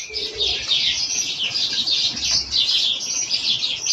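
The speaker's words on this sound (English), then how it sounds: "It's pretty much all baby birds all the time around here at the moment. There are baby starlings, there are baby jackdaws." Baby starlings and jackdaws call in an outdoor natural setting, a steady stream of high chirps and squeaky begging notes that overlap continuously at moderate distance, with soft low background rumble beneath.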